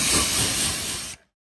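A sprayer hisses out Gyeon Wet Coat detailing product onto car panels, one loud, steady burst of spray lasting about a second before stopping abruptly.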